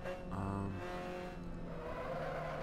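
Miata Cup race car in a racing video game at Monza, its engine droning steadily with shifting harmonic pitch, loud and continuous throughout with no talk.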